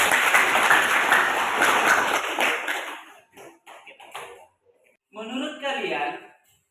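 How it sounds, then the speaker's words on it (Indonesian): A short burst of clapping from a class of students during an Islamic studies lesson on tajwid. It is dense and lively for about three seconds, then fades into a teacher speaking. "Berikan aplaus singkat."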